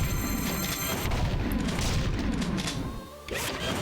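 Booming blasts and crashing gunfire fill a shooting course in the video game Jak II, dense and loud with overlapping impacts, briefly dipping before resuming.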